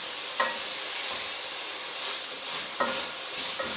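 Sukuma wiki (collard greens) stirred and mixed in a hot pan, with a constant bright sizzling hiss and a few distinct scraping strokes spaced a couple of seconds apart.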